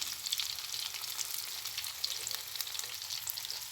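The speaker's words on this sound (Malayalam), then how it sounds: "നമ്മളങ്ങനെ രണ്ടാമതും ചിക്കൻ ഇട്ട് വറുത്ത് കോരാനായിട്ട് എടുത്തിട്ടുണ്ട്" Chicken pieces deep fry in hot oil for Kerala chicken kondattam, giving a dense crackling sizzle with rapid popping bubbles, steady and close, with no voices.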